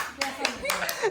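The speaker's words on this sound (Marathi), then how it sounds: "एकच माणूस आहे सध्या टाळ्या वाजवायला" A single person claps hands at a home anniversary celebration, a few sharp, irregular claps close by with faint voices in the background.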